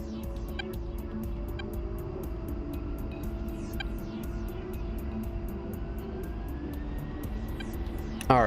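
A flight-game aircraft taxiing, with a steady low engine drone throughout and a series of regular faint ticking clicks above it, ending in a short louder burst.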